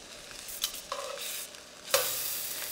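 Tofu and mushrooms frying in a pan, a quiet sizzle broken by a few soft scrapes and stirs of a utensil, with a louder burst of sizzling near the end.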